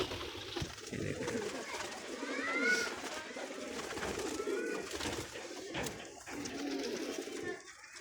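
Pigeons kept by a Sargodha fancier coo steadily and close by, a continuous layered cooing with some bird calls mixed in across the whole stretch.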